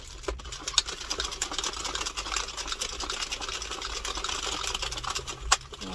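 A machine knits a four-colour beanie with a steady, dense mechanical rattle and whir that runs continuously at moderate loudness, marked by a couple of sharper clacks along the way.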